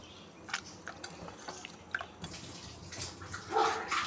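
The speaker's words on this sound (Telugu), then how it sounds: "చింతపండు కలుపుకున్నాను." A hand squeezes and swirls tamarind in a bowl of water, making soft, irregular sloshing and squelching splashes that are close and fairly quiet, with no speech.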